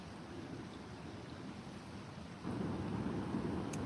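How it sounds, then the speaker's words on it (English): Steady rain rushing down outdoors during a wild camp cook-up with a Trangia stove, a broadband hiss that swells louder partway through as the shower comes in; no distinct thunder stands out. "You can hear the rain coming in again."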